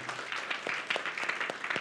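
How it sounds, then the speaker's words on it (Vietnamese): A church audience claps in a brief round of applause, many hands patting softly at moderate distance, the sound fairly faint and steady throughout. "quý vị một lần nữa hãy vỗ tay cảm ơn đội truyền thông của chúng ta"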